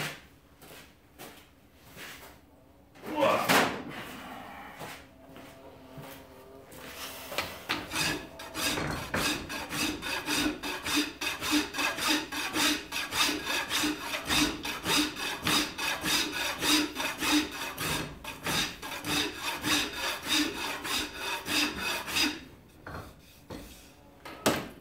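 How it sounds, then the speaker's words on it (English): A cabinet maker's rasp filing down a wooden axe handle, after a brief knock, settles into a long run of fast, rhythmic back-and-forth rasping strokes, loud and close, stopping near the end; no talking. "I have a file that would be better for this"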